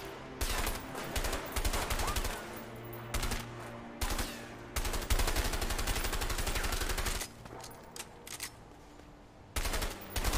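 Video game machine guns fire in long rapid bursts separated by brief pauses, loud and dense, with a faint steady hum beneath.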